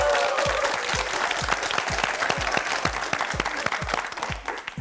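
Studio audience at a Korean TV quiz show applauding, a dense burst of clapping with rhythmic unison beats, loud and close, fading slightly toward the end.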